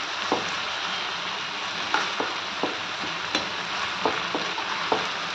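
Onions and stuffed brinjals fry in a pan with a steady sizzle, while a spoon stirs them in several sharp scrapes and taps at irregular intervals.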